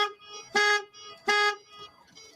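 Car beeping in a repeating pattern during a police traffic stop, two loud tonal bursts with quieter harmonic tones between them, close by.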